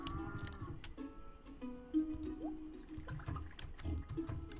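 Cows mooing in the farming video game Stardew Valley, a few low drawn-out moos over a faint trickling water background, fairly quiet, with a bright short click partway through.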